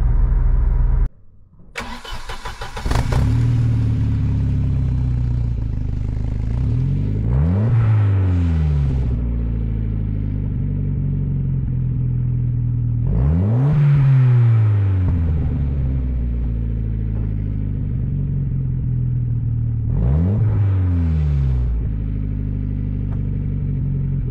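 A Volvo 940 Turbo engine revs repeatedly through a throaty stainless steel turbo exhaust, heard from outside the car, three or four rising bursts over a steady idle, close and loud.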